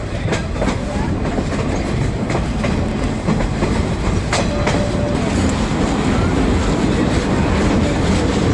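Continuous heavy rumble of a moving train with steady clatter and rattling, loud and close, as if riding aboard while crossing a railroad trestle bridge on the Verde Canyon Railroad in Arizona.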